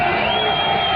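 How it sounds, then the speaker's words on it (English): Dense, steady roar of a football stadium crowd at a Colorado Mines vs CSU-Pueblo college game, loud and continuous with scattered whoops, filling the whole second. "Crowd starting to make some noise here."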